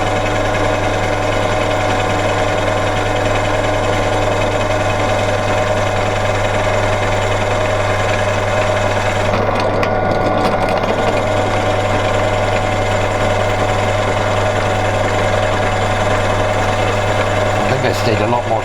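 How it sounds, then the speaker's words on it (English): A drill runs steadily as it bores blind holes into a mini lathe spindle lock part, a continuous droning whir with a constant hum and brief shifts in load partway through. "Said I'd use the drill, didn't I?"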